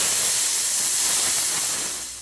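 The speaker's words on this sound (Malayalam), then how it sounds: "എൻ്റെ കുക്കറിൻ്റെ പ്രഷർ റിലീസ് ചെയ്തു ഞാൻ." A household pressure cooker, cooking a jackfruit dish, vents steam in a loud, continuous close hiss that holds steady and then starts to fade at the end.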